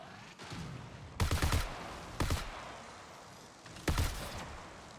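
A charge-up sniper rifle in the video game Marathon fires several sharp shots, three loud cracks spaced irregularly over a faint, hissing background.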